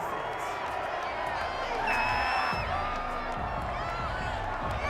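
A home stadium crowd in the Madden 21 football game, a continuous roar with rising cheers and whoops after a fourth-down penalty call, heard beneath commentators' talk.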